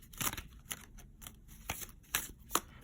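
Tarot cards shuffled in several quick riffling bursts, with soft papery flicks separated by short pauses, close and fairly quiet.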